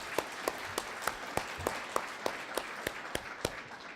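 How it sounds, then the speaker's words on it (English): A small group at an impaired driving summit claps in a steady, even rhythm for a few seconds, fairly faint and without cheering. "Let's give them a round of applause for all that they do."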